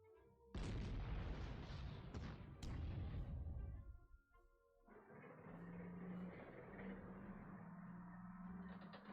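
Artillery fire in the Panzer Corps strategy game: two or three heavy booming blasts close together, followed by a quieter rumbling, crackling tail with a low steady hum.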